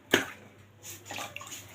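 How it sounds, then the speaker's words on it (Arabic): Salt water pouring into a jar of mixed pickles, with a sharp splash at the start and then a softer, uneven trickle and slosh, close and fairly quiet. "هنحط برضو ميه ملح"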